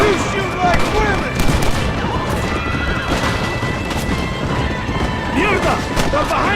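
Western gunfight in Red Dead Redemption: scattered gunshots crack amid a dense, continuous battle din, with shouted voices breaking through over the top throughout.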